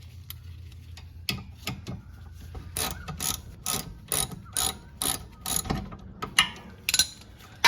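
Brake caliper bolts on a car, worked during a rotor replacement with a 17mm spanner and a 13mm wrench, give rapid ratcheting clicks in repeated short bursts with brief pauses, close and fairly loud, with no talking.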